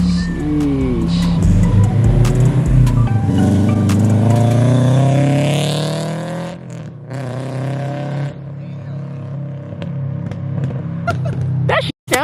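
A 2022 Subaru BRZ engine revs loudly, rising and falling with a throaty exhaust roar, then settles to a rough idle before a sharp pop near the end.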